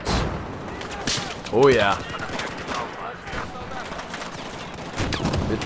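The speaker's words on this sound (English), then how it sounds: "The DO-12. Semi-auto shotgun, drum-fed, with frag rounds." In Battlefield 4, a DO-12 drum-fed semi-automatic shotgun fires frag rounds in a rapid string of sharp, loud blasts mixed with other gunfire and in-game chaos, with someone speaking briefly over it.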